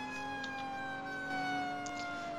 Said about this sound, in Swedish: Här kommer ambulansen. Som även är en brandbil och ska släcka den här elden här.